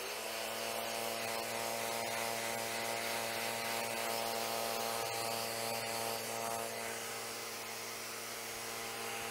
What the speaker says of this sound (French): on peut aussi effectuer un ponçage encore plus fin avec des disques en 120 ou 150